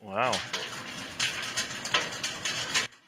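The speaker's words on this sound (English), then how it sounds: "that is the sound of hail coming down today in Grass Valley" Hail pelting down during a storm in Grass Valley, a dense rattling patter with sharper clattering hits, moderately close and steady for a few seconds. A voice briefly exclaims at the start.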